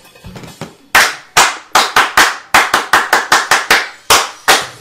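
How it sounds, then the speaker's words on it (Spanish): A small group claps for a raffle winner: about a dozen sharp, separate hand claps close by, spaced unevenly over a few seconds after a soft, muffled start. "Yelenis, a ver, un aplauso."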